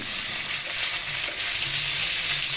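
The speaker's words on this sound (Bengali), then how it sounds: "একটু ভেজে নেব আর ইলিশ মাছটা আজকে আলু দিয়ে ফুলকপি দিয়ে রান্না করব এজন্যে আমি ভেজে নিতেছি" Hilsa fish fries in hot oil with a loud, steady, dense sizzle and crackle that fills the whole stretch, close up and without speech.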